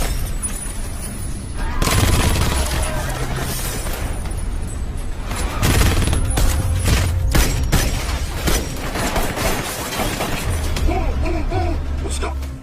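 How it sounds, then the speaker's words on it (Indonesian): A film shootout between elite soldiers turned bank robbers, with bursts of gunfire and impacts crackling sharply through a dense action soundtrack while a narrator talks over it. "Baku tembak pun tak terelakkan."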